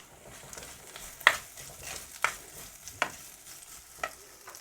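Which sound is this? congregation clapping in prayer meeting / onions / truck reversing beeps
onions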